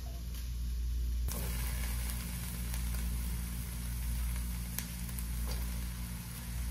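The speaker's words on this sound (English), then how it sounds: "go ahead and add in our shiitake mushrooms" Shiitake mushrooms sizzle steadily in a hot pan for a dairy-free Alfredo pasta, a dense continuous hiss with a low hum beneath and no talking.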